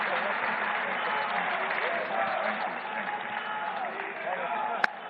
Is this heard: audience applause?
yes